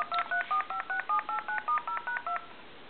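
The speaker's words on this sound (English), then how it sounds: "then I'm going to hit flash, and redial" Dialing tones from a Radio Shack telephone as flash and redial are pressed: about a dozen evenly spaced two-tone DTMF beeps in a quick steady rhythm, clear and close with no talk.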